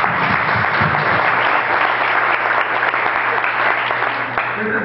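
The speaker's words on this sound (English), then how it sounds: "give them a round of applause" Audience applause at a candidate forum, a dense steady wash of clapping from a crowd filling the whole stretch at even loudness.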